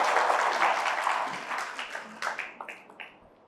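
An audience bursts into loud applause at a gathering at a Buddhist vihara in Chhattisgarh, dense clapping at first, then thinning into scattered individual claps that fade out over a few seconds.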